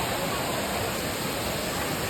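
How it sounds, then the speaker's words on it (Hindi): Manthoka waterfall in Shigar, Gilgit-Baltistan, Pakistan, roaring as a steady, dense rush of falling water, loud and close with no breaks. "This is the gorgeous Manthoka waterfall"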